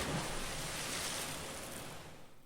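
Water and waves in the Phoenix Wright: Ace Attorney - Spirit of Justice video game, a steady full wash of surf-like rushing noise that fades slightly toward the end, with no voices.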